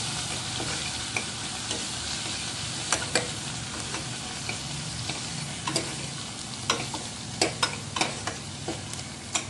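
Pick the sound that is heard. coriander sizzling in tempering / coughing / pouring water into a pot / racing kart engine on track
coriander sizzling in tempering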